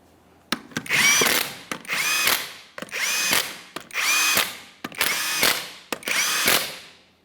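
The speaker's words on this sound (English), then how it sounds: "start on all 6 of your 21mm lug nuts and we'll bottom them out" An impact wrench or power tool runs lug nuts onto a Ford F-150 rear wheel, six separate bursts of loud whirring and rattling, each roughly a second long, evenly spaced with short pauses between them.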